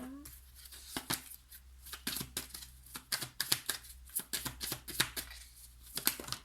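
Tarot cards are shuffled and drawn for a love reading, with a brisk run of crisp snapping and riffling bursts in an irregular rhythm, close and fairly soft.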